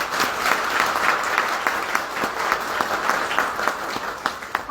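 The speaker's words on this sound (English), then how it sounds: "Now, again, give them all a round of applause." Audience applause for appointees at an Arkansas state society meeting, a steady, full wash of clapping that continues throughout with sharper individual claps standing out from the crowd.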